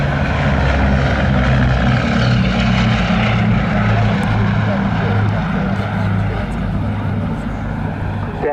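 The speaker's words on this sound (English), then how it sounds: "the noise coming from those fantastic Mercury engines" A historical aircraft powered by Mercury engines flies past at an airshow, a loud continuous propeller drone with a throbbing low hum, and a commentator talks over it.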